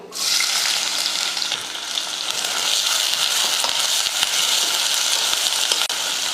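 Onion dropped into hot oil with whole spices for a Tamil fried kuzhambu sizzles loudly and continuously, with a few soft stirring clicks and no voices.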